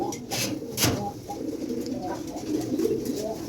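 Pigeons and their young coo softly in a loft, low murmuring calls repeating close by, with a brief brighter burst partway through and no talk.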